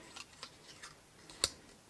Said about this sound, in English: just with a pair of scissors, snip off there